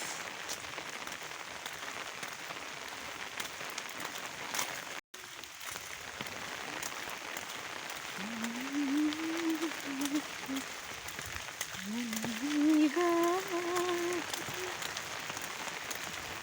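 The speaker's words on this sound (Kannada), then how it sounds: "ಏನು ಮಧ್ಯಾಹ್ನದಿಂದನೂ ಫುಲ್ ಮಳೆ ದುರ್ಗದಲ್ಲಿ." Heavy afternoon rain pouring steadily in Durga, a dense continuous hiss of drops on surfaces throughout, with a brief gap and faint tonal voices rising near the end.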